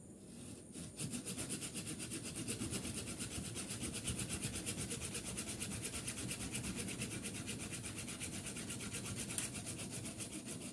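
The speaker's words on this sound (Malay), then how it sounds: "Kita potong gunakan gaji ya teman." A hand saw cuts through a bougainvillea branch in a garden, giving a fast, steady rasping back-and-forth stroke that stays loud and close for about ten seconds.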